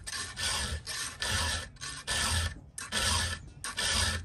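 A chainsaw chain is sharpened with a hand file, making steady, loud rasping strokes in an even back-and-forth rhythm with short pauses between them, close up and with no voices.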